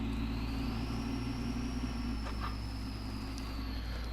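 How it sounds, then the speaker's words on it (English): A Ford Powerstroke truck engine in the video game SnowRunner runs at a steady idle with a constant low rumble and a faint high whine, quiet and alone. "I think the truck sounds really nice. It sounds very nice when it's running"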